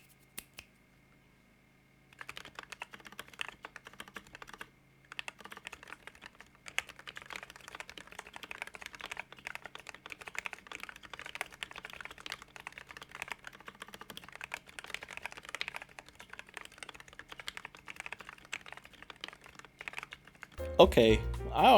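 Rapid, continuous clacking of typing on a TM680 keyboard fitted with Echo CS Jelly Black linear switches, close and crisp, steady for most of the stretch after a brief quiet start.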